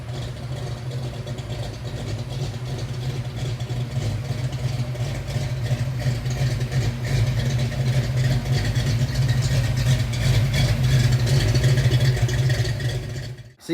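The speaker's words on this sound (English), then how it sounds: "Andrew's car sounds obviously a lot better than it did the first night, and that's because of the exhaust" An EFI Foxbody Mustang with a small cam and aftermarket exhaust idles in a deep, steady rumble, loud and close, with a slightly lopey pulse that swells louder partway through before cutting off at the end.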